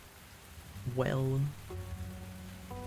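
Rain falling in the video game Tavern Talk, a soft steady patter in the background beneath a brief spoken word and some tonal game sounds.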